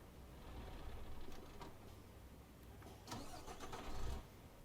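MAN Lion's Coach bus engine from the video game Euro Truck Simulator 2, with a steady mid-pitched drone that swells briefly near the end, playing alone.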